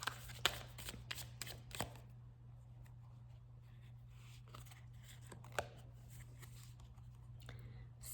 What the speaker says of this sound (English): So I'll go ahead and give it a shuffle and pull a card.